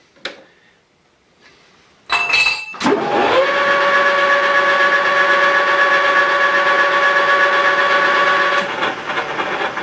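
Boring a hole in a metal part for a custom fishing rod holder: after a quiet start with a brief clunk, a machine spins up into a loud, steady whirring drone that holds for several seconds before easing slightly.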